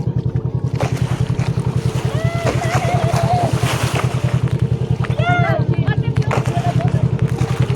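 A boat engine thrums steadily as the hull moves over small waves, with water splashing and voices calling out briefly in the background.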